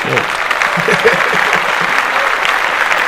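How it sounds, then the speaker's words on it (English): A short burst of clapping from a few people in a podcast studio; close, brisk claps with a voice briefly audible through them. "She gets a clap."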